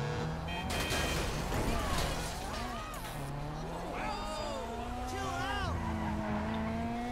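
A car driving off in the video game GTA 5, with an engine revving and rising in pitch, tires squealing and skidding, loud and continuous, with a voice heard partway through.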